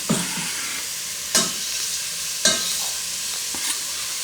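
Chopped garlic and onions fry together in a pan with a continuous gentle sizzle, punctuated by several sharp scrapes and knocks of a stirring utensil at irregular intervals, close and without speech.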